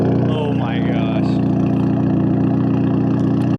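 A loud, turbocharged Toyota Celica idles close by with a steady, beefy rumble and a slight rise in revs early on. Someone speaks briefly over the engine.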